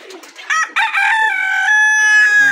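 A hen from a mixed flock of desi, golden and misri breeds gives a loud, close, drawn-out call on a farm, with a few short clucks before it and a brief low sound at the end.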